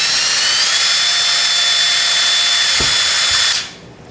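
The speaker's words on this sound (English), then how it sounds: "just let the drill do the work." A power drill bores through a plastic cap on a DIY CO2 gel setup with a loud, steady high whine and a brief dip near the end before it stops abruptly.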